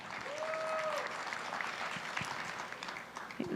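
Sold-out gala crowd of over 400 people in Chicago clapping, a moderate, somewhat distant wash of applause with a brief tonal whistle early on and occasional louder claps toward the end.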